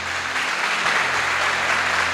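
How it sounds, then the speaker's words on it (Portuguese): Church congregation claps together in a dense, even roar of many hands, loud and close, filling the whole two seconds with no talk over it. "Uma salva de palmas para eles."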